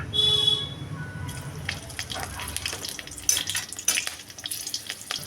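Spices for tempering fry in hot oil, giving a crackling sizzle with stirring scrapes and clinks, close up, after a brief low hum at the start.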